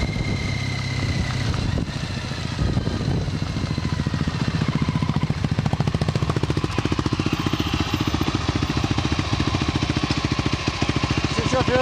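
A Triumph motorcycle engine runs steadily and close on a road trip across the USA, a dense rhythmic rumble holding for the whole stretch with wind noise over it.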